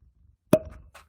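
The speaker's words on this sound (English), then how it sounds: "Nice deep cork pop" Synthetic cork pulled from a wax-sealed bottle of Little Book Chapter 6 bourbon: a single deep, hollow pop, close and fairly loud, followed by a brief soft rattle and a faint trailing sound.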